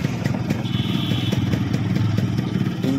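A used motorcycle from a Maheshpur dealer, its engine in near-new condition, runs steadily nearby with a fast, even mechanical patter and light clatter. It stays continuous and fairly loud throughout with no voices.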